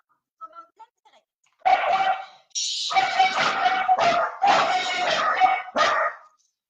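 Dogs bark in several sharp, loud bursts, some overlapping, with a few faint yips at the start before a string of close, insistent barks.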